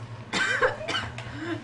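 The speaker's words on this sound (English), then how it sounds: "We're coughing for some reason." Several rough coughs from people nearby, bunched together and followed by a little throat clearing, over a low steady hum.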